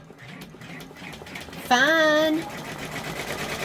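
A multineedle embroidery machine stitching a design, its motor whirring steadily up close, with a brief tonal whine partway through and a voice speaking briefly.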